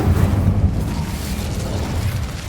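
Fire spell cast in Hogwarts Legacy: a loud, sustained roaring whoosh of flames with deep rumbling and crackle, continuous and close for the whole stretch.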